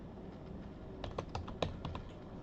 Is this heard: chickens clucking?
no